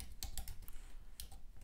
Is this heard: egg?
no